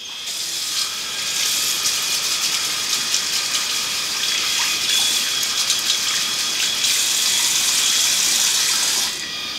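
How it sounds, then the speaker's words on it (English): Water runs steadily from a tap onto a head shaver, a bright hissing splash with light clicking, close by and continuous, no voices. "I run water on it."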